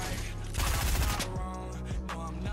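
Rapid bursts of gunfire in Fortnite, loud and close, crackling shots running together for a couple of seconds with game effects around them.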